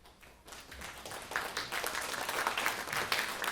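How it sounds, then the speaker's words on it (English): After a brief quiet moment, sparse, scattered clapping starts up from a small audience, faint and uneven. "There's like a smattering of applause there."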